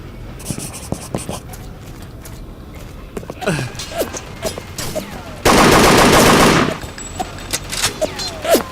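Gunfire from the World War II shooter Übersoldier, with a dense, continuous burst of automatic fire lasting about a second, surrounded by scattered single shots and game ambience.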